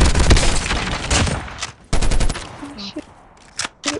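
Rapid bursts of automatic gunfire in the mobile shooter game COD Mobile, loud and close, broken by brief pauses, with short electronic game sounds and a voice talking in between.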